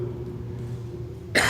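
A single cough from someone with a sore throat bursts out loud and close at the very end, after a stretch of quiet room tone with a steady low hum.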